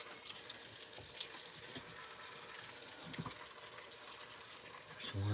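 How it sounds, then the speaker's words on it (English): A steady, soft sizzle of chicken frying in an Instant Pot continues throughout, with faint clinks and a low rumble near the end. "that looks like it's sizzling nice,"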